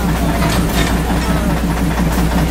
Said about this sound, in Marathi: इथे मित्रांनो तुम्हाला दाखवतो आहे की हे आहे इंजिन आहे इंडियन रेल्वे